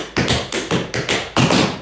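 Tap shoes strike the floor in a quick tap dance break of buffalo, flap, shuffle and hop steps, a crisp close burst of clustered taps and heel thumps with short gaps, ending on a heavier double hit.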